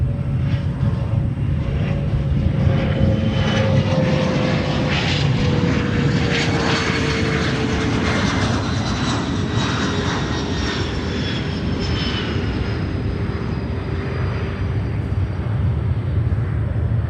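Spirit Airlines Airbus A320neo arriving from Houston roars steadily as it comes in to land, a sustained broadband engine rumble with a slowly falling whine, loud and close throughout.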